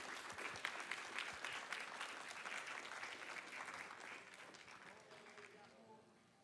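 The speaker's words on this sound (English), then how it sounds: "Can we get one more round of applause for that time?" Sustained applause from a speedrunning event crowd at AGDQ 2020, dense clapping throughout that gradually thins and fades toward the end.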